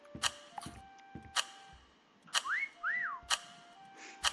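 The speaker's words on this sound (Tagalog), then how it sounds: "Layo nung sipol." Sliding whistle tones in the Meccha Chameleon video game, a couple of rising-and-falling swoops amid sharp repeated clicks and ticks, fairly faint and spaced out.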